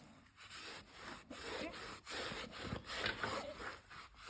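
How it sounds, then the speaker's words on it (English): A white wall tire on a Harley motorcycle being scrubbed with a brush, rhythmic back-and-forth rasping strokes, steady and close but fairly quiet, with no talking. "let me continue agitating and cleaning"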